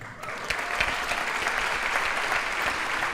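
An audience at a live show claps steadily, a full, even wash of applause that swells in after a brief quieter start and holds to the end.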